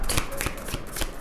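Tarot cards being shuffled by hand in quick riffling bursts, several crisp flutters close up with no talking.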